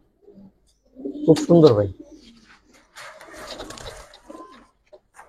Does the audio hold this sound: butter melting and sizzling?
no